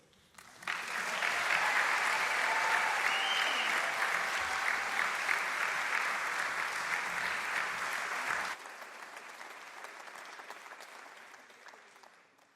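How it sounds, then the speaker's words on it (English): An audience at a short film awards ceremony breaks into loud, sustained applause. The clapping holds steady for several seconds, then drops sharply to a thinner, quieter patter that slowly fades. "big round of applause for all our winners again so far"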